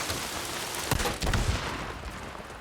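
Steady rain in the video game Days Gone, a dense broadband hiss of falling water that stays fairly loud throughout, with a couple of brief thumps near the middle.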